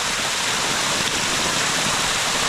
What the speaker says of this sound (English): This is a lot of water coming out from this segment